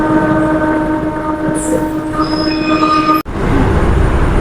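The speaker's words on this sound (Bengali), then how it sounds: "পাঁচ নম্বরে ঢুকলো হচ্ছে গঙ্গাসাগর এক্সপ্রেস" The Gangasagar Express pulls into platform five at Bardhaman Junction at night, a loud steady rumble of rolling wagons with whining wheel squeals and tonal screeches overhead, ending in a sharp clunk.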